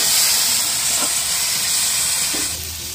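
Turmeric and ground chili paste sauté in hot oil with a loud, steady hissing sizzle, a couple of soft stirring knocks, the hiss easing slightly near the end.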